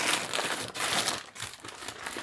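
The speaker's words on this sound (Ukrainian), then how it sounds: "Це пакет. Булочки." A plastic bag holding bread rolls crinkles and rustles in quick, uneven bursts close up, fairly loud with brief pauses between handlings.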